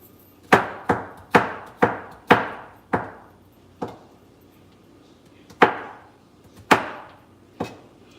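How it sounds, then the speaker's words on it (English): A kitchen knife gives three cloves of garlic a rough chop on a board, with about ten crisp, close strikes in uneven bursts and short pauses between them. No voices are heard. "come back and give it a rough chop"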